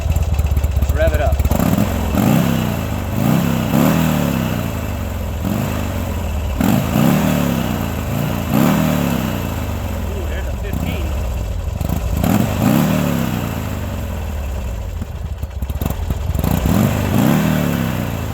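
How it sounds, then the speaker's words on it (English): A 2003 Harley Davidson Buell motorcycle, with a fault that blows its ignition fuse, runs loud and close with repeated rhythmic revs rising and falling over a rumbling idle, with voices mixed in. "Let's rev it up."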